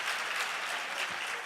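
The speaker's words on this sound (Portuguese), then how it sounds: "Pode aplaudir o Senhor." Church congregation clapping in praise during a gathering, a dense even patter of many hands, steady and moderately loud for a short burst.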